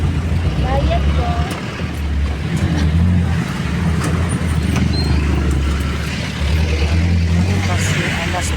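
Steady road traffic surrounds a ride at midday, with low engine rumble from passing cars and trucks, occasional louder vehicles swelling and fading, and a voice talking intermittently over the continuous close din.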